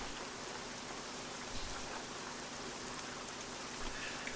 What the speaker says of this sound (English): Oh, and it's pissing down rain.